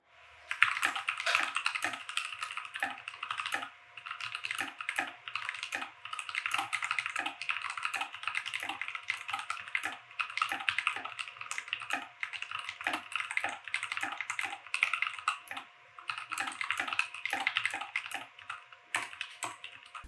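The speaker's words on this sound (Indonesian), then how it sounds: "Dan ini typing testnya." Rapid typing on a mechanical keyboard in a plastic case, crisp clicky keystrokes in quick bursts with brief pauses, close and clear with no talking.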